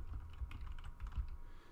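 Quiet, rapid typing on a computer keyboard, a steady patter of soft key clicks over a low background hum, with no talk.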